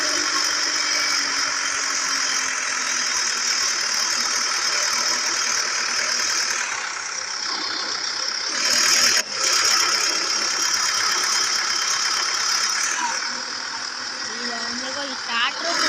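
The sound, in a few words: tractor engine running in a video game, GTA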